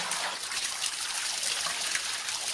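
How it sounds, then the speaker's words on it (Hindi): Water poured over the eyes during bathing makes a steady, loud, hissing splash that runs continuously and evenly, with no voices. "इस तरीके से आंखों पर भी पानी डालेगा"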